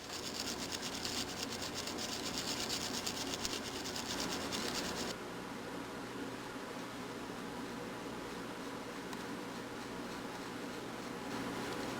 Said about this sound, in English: I'm going to scrub until I get chip paint, and just keep on doing it until I get the desired effect